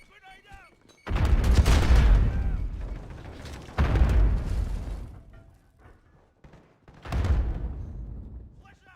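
Grenade explosions in Call of Duty: Modern Warfare, three loud booming blasts with rumbling decay separated by brief quieter gaps, with voices faintly in between.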